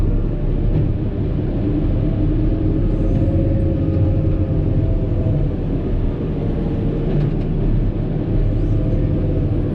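John Deere 6155R tractor hauling Marshall grain trailers, a deep steady engine rumble with drivetrain drone, loud and continuous from inside the cab, no talking.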